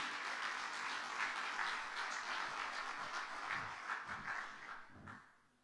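A church congress crowd applauds in praise, a thick, steady wash of many hands clapping that carries on for several seconds and then tapers off at the end.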